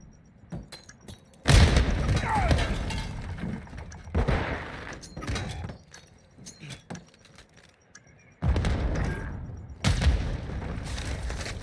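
Bombs in the Apex Legends video game go off as several heavy booming blasts in bursts, with rumbling debris and scattered gunfire between them.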